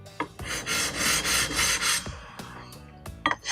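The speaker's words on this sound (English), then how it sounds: "take my diamond plate and just really quickly run across the edges a few" A diamond plate rasps in several quick back-and-forth strokes across the edges of a whetstone, close gritty scraping broken by short taps.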